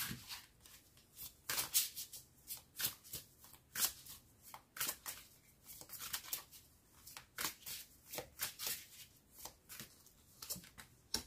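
Tarot cards shuffled for a reading, a steady run of crisp riffling and slapping bursts repeating throughout, close and fairly quiet, with no voices.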